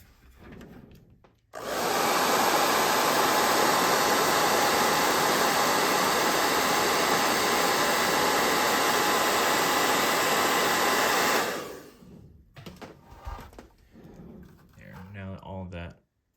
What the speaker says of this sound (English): we'll use a hair dryer